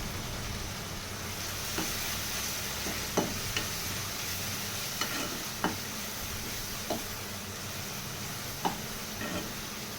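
Spleen fries with chili powder in a pan, a steady close sizzle broken by scattered light clicks and knocks of a spoon stirring, with no talk.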